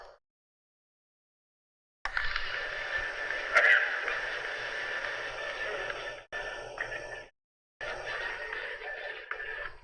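Steady broadband cassette tape hiss fills the clip after a silent start, with brief dropouts and a faint low hum underneath.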